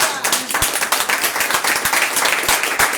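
A church congregation claps in a quick burst, close and fairly loud, with a scattered mix of individual hand claps forming brief applause.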